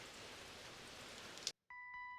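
Steady rain falls in a dense, even hiss for about a second and a half, then cuts off abruptly. A few faint tonal beeps follow.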